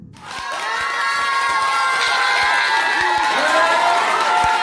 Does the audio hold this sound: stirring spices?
no